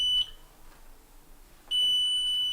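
A fire alarm panel emits a shrill electronic beep during programming; one tone cuts off early, then after a pause a second steady tone begins and holds to the end.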